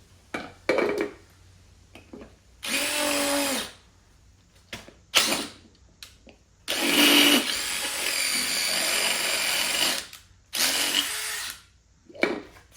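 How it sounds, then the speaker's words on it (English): A power drill with a larger bit whirs in several bursts, short ones first and then a long sustained run of grinding and spinning, with brief pauses between, close by, widening a hole on a Toyota Supra. "We're gonna use a bigger drill bit. See if you can open up this hole."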